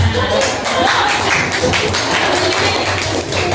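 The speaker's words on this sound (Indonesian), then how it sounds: "Tepuk tangan" A classroom of pupils claps together in a dense, continuous patter of hand claps lasting a few seconds, close and fairly loud.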